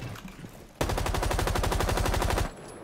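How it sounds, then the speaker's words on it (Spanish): Automatic gunfire in the video game Rainbow Six Siege, a sustained rapid burst of shots lasting under two seconds, loud and close, between quieter game ambience. "Que parece que tengo un tío a mi lado disparando"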